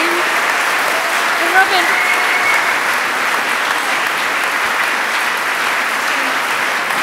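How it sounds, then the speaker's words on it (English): An audience at the closing plenary of the Oxford Real Farming Conference applauds the conference team in a dense, steady wash of clapping. It is loud and sustained, and a voice speaks briefly over it. "So would you give them a round of applause?"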